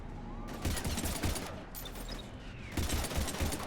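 Gunfire aimed at husks in Mass Effect 3, with bursts of rapid shots in clustered volleys over a busy combat soundscape, loud and close, briefly easing midway before another heavy burst.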